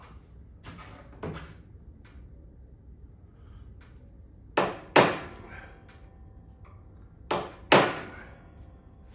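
Hammer strikes on a punch mark holes in a motorcycle tank: a few lighter taps, then two pairs of sharp, ringing blows close by, with a brief spoken word.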